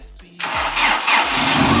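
Opel Astra engine that had sat for nearly two years, on a half-dead battery, cranks briefly and then catches, settling into a loud, steady running idle close by.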